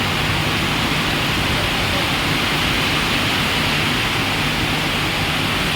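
Torrential monsoon rain pours over a town of offices, shops and a hospital, a dense, steady broadband roar that holds at full loudness without a break.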